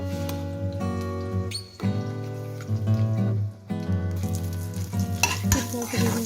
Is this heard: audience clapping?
no